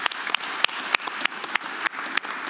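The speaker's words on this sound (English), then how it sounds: "Give him an applause again" Audience applause at a talk or panel event, a modest crowd clapping steadily in a room at moderate volume with no speech over it.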